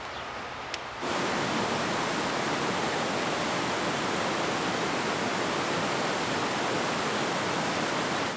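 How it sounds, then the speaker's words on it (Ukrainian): A cascade of mountain waterfalls at Dzembronya falls in the Carpathians roars as a dense, steady rush of water that starts abruptly and continues unbroken and loud. "виходимо до каскаду з декількох водоспадів, які називаються дзембронськими або смотрицькими"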